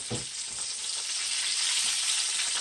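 Gluten-free flounder fries in a pan with a steady, close broadband sizzle, and a short soft knock near the start as the fillet is flipped.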